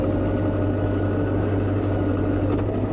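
Old farm tractor engine idling on a frozen day of hay loading, a steady, loud low rumble with a constant hum and no change in pace, heard close from the cab without talk.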